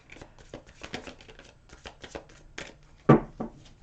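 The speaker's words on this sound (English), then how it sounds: "Let's get these shuffled good." Rapid, crisp riffling and snapping of slippery, glossy tarot cards being shuffled close by, a steady stream of soft clicks ending in a louder slap of the deck.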